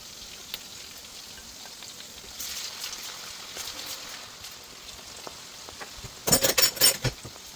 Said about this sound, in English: Then we'll go ahead and continue frying.